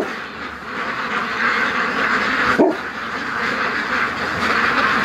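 Pet ducks quack loudly and continuously at a lake, a dense, raspy chorus with one sharper call near the middle.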